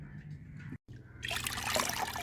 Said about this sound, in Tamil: இப்போ தண்ணியை வடிகட்டுறேன்.